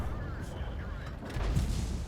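A tank cannon shot in War Thunder, with a dull boom landing around mid-clip over a steady rumble of engine and battle noise, and someone talking over it.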